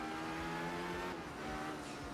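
A rally car engine in Art of Rally revs steadily on a gravel stage, a sustained buzzing drone with small pitch shifts as it slides through a corner, fairly quiet and without talk.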